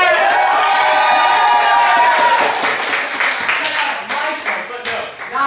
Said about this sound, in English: We're gonna get a cheer for Shrek!